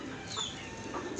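Soft clucking and short coos from a small bantam chicken close by, a few quiet calls over faint background hiss.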